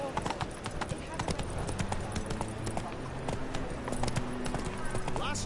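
Rhythmic horse hooves gallop steadily and close in The Witcher 3 video game, with voices talking over the clopping.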